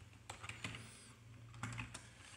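Computer keyboard typing in a classroom lecture setting, with quick clusters of key clicks at an irregular rhythm, moderately close over a low steady hum and no speech.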